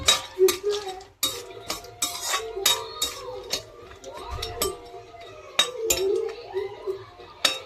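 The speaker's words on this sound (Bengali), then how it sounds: "ঘিটা গরম হয়ে গেছে, এর মধ্যে ড্রাই ফ্রুটস নিয়েছি, এগুলো একটু হালকা করে ফ্রাই করে নেবো।" Dry fruits lightly fried in hot ghee in a metal pan, heard as close clinks and scrapes of a spoon against the pan with repeated stirring strokes and faint sizzle underneath.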